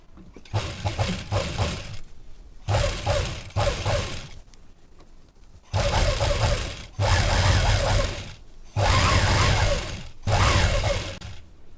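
A sewing machine runs an edge seam on a blouse in repeated bursts of fast, close, loud mechanical stitching, broken by short quiet pauses.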